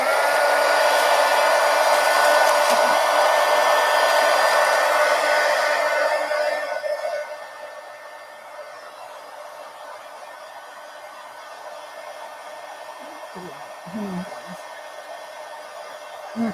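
A hair dryer blows steadily and loudly over a mixed media collage, a constant whooshing drone for about seven seconds before dropping to a softer hum with a few faint handling knocks near the end.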